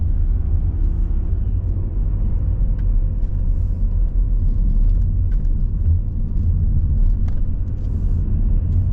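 A 2015 Volvo V70 2.0 D4 diesel with Geartronic automatic gearbox driving on the road, a steady low in-cabin rumble of engine and tyres, continuous and even with faint ticks and knocks on top, and no talking.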